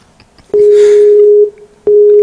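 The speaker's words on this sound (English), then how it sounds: "I'm ringing Victor Nazgul" A phone call ringing out: a loud, pure steady tone sounds for about a second, pauses briefly, then starts again, clear and close with no voices over it.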